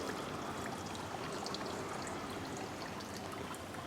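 Water trickles steadily through a garden water feature beside a landscaped home in Reykjavik, a soft, continuous flowing wash heard alone at low level.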